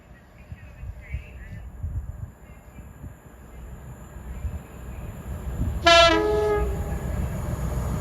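A main-line British Rail Class 37 diesel locomotive rumbles past, loud and close, and sounds a short two-tone horn partway through.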